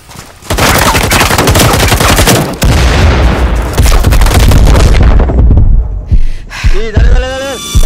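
Gunfire in Firewall Zero Hour, a loud, dense burst of rapid automatic shots lasting several seconds, then tapering off into scattered pops as voices begin talking.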